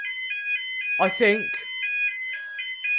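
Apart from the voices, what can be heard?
railway level crossing alarm tone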